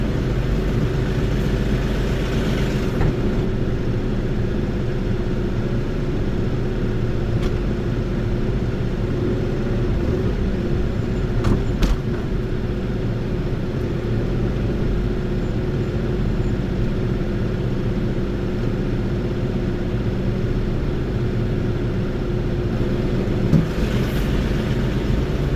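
A mowing tractor's engine drones steadily in gear for the whole stretch, a continuous mid-heavy mechanical hum with a few faint clicks and knocks, no talking.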